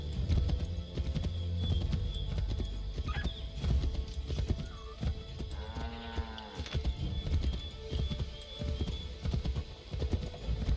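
Horse hooves clip-clop and gallop at a steady rhythm in Assassin's Creed III, close and continuous amid outdoor game ambience, with a brief whinny-like tone partway through.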